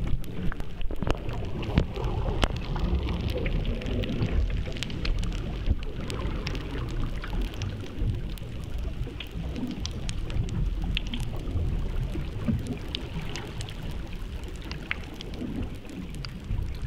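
Dense underwater crackling from snapping shrimp, countless sharp clicks over a low bubbling, gurgling wash of bubbles from ice, continuous throughout.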